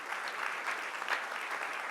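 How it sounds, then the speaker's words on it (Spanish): Church congregation applauding during a sermon, a brief, even wash of many hands clapping at moderate volume. "dale un aplauso a él"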